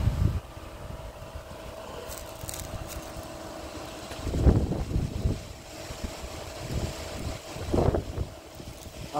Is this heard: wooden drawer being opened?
no